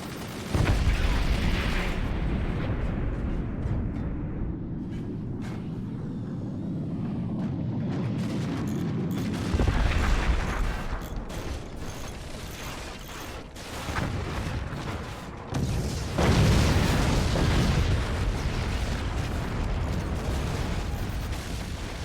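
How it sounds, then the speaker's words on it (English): Heavy howitzer shells launch and detonate in the physics-based fort-building strategy game Forts during a competitive match, with dense rumbling booms and crashing impacts that swell loudly around the middle and again near the end. "Cshot, with them thick howitzer shells, makes it clean across the open air and smashes Dranistian"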